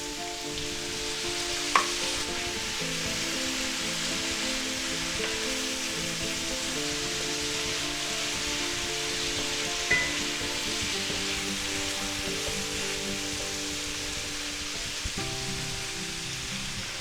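Shrimp chow mein sizzles loudly and steadily in a hot pan as chow mein sauce goes in, a dense continuous hiss broken by a few sharp clinks of a utensil against the pan.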